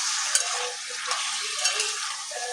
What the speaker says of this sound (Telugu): కలిపేస్తున్నాం